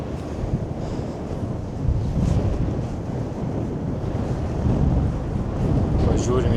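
Strong wind buffets the microphone atop a lookout tower near Birštonas in Dzūkija, Lithuania, a constant low roaring rumble with gusts swelling louder midway and near the end.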